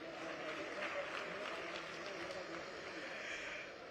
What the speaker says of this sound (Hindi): जोरदार तालियां हो जाएं जरा एक बार से।